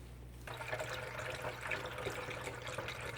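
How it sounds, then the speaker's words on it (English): Water pouring steadily from a jug through a funnel into a Pureguardian cool mist tower humidifier, a continuous close trickling wash that starts abruptly and runs on without a break, with no voices. "I'm gonna take a jug, put a funnel and put water here"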